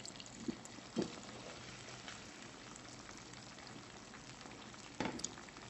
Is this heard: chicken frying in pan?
yes